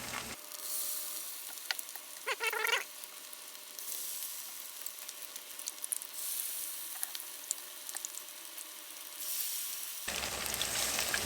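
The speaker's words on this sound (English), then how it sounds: "Got our fish cooking." Breaded crappie fillets fry in hot oil in a pan, a steady close sizzle running throughout with a brief burst of crackling early on.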